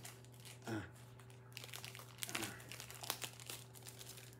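A mail package being cut open: quiet crinkling and rustling of wrapping with a few sharper snips and tears, soft and close in an otherwise still room.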